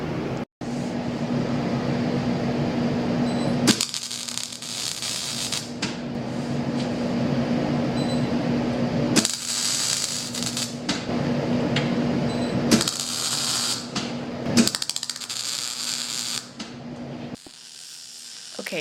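MIG welding on steel plate, laying tack welds and then a bead joining a vertical piece to a base plate: several bursts of steady crackling, sizzling arc noise separated by pauses, over a constant low machine hum.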